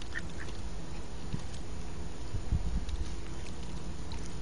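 A duck quacks a few times close by while eating beside someone at lunch outdoors, short soft calls over a steady background of wind and water.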